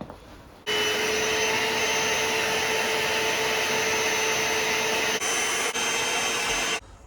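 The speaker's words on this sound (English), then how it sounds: "Should we get a wee bit of vac action and see what comes out?" A vacuum cleaner runs inside the interior of a salvaged Fiat 500, switching on with a loud, steady close whine and drone that holds for several seconds, briefly dips, then cuts off.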